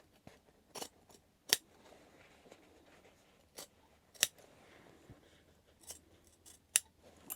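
Scissors snip into the fabric corners of a mini sling bag, giving sparse, crisp individual cuts spaced irregularly over quiet background, close and clear.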